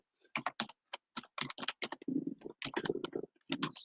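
Password being typed on a computer keyboard: a quick, uneven run of crisp key clicks in short bursts, close and clear, with no talking.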